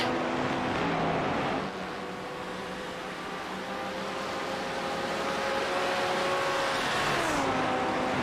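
Porsche race car engine in a sim racing game, held at high revs with a steady harmonic drone, a brief dip around the second mark and a sharp shift near the end, loud and continuous without speech.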